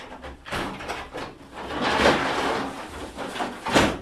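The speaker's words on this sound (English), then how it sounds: "so I put my door back in here." A door slides back into its grooved track with several scraping, rumbling pushes that rise and fall, close and fairly loud, and no talk.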